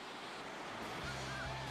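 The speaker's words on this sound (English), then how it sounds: "These are killer rapids." Rushing floodwater roars in a continuous broad wash, like fast rapids, with a low rumble and wind-like buffeting throughout, in the 1992 floods at Vaison-la-Romaine, France.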